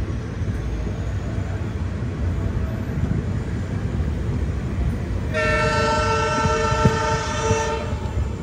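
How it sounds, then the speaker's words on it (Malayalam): A train pulls into Annigeri railway station during a Hubballi to Hyderabad express journey, a constant close rumble of rolling wheels joined after a few seconds by a long, loud, sustained horn blast. "ട്രെയിൻ ഇപ്പോൾ അന്നിഗേരി എന്ന് പറഞ്ഞിട്ടുള്ള ഒരു റെയിൽവേ സ്റ്റേഷനിൽ എത്തിയിരിക്കുകയാണ്."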